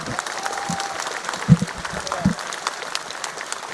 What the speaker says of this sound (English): he would like to thank for the applause to everyone here